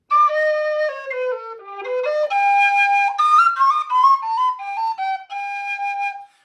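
A 3/4 inch G mezzo whistle plays a clear, bright melodic line of sustained notes that step down and climb back up, close and solo with no talk.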